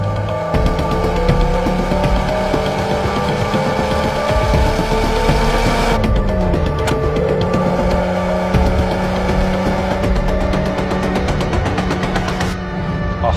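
An old Volkswagen car engine drones steadily and loudly with rising pitch as it pulls hard through third gear, a brief shift-like dip partway through, no talking.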